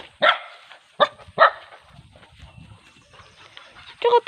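Several sharp dog barks ring out, a quick cluster early on, then another burst at the end, with faint rustling between.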